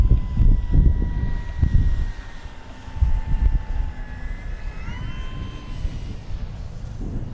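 An FMS Corsair 1700mm RC airplane descends toward a touchdown, its electric motor a thin, wavering whine drifting overhead while gusty wind rumbles against the microphone.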